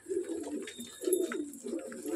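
Pigeons coo in a steady rhythm, several low throaty calls repeating close by with no talking.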